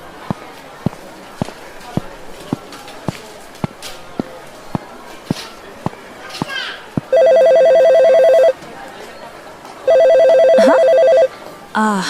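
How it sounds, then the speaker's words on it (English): A mobile phone rings in two long electronic bursts, preceded by a steady series of sharp taps and rustling close by. "My phone is ringing, but where is it?"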